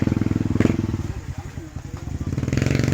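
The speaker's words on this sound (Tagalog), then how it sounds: "Ito si Candice, kinuha pa yung motor niya sa may Karimot" A motorcycle engine idles with a steady, rapid pulsing throb close by, running throughout the clip while people talk over it.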